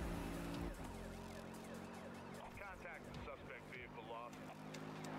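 Police car siren in the Need for Speed racing game, a wailing sweep rising and falling amid engine roar and game noise, fairly faint and steady throughout.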